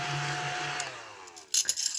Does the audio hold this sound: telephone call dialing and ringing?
no